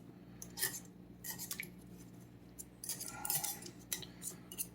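A knife scrapes homemade butter out of a container in a quiet kitchen: several short, dry scraping strokes in irregular bursts, close and fairly soft, with no talking.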